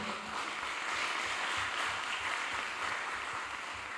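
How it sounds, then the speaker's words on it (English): Studio audience applauding the youth ministers at the close of a televised youth-parliament segment on roads and highways, a steady wash of clapping with no voices over it. "A round of applause for them."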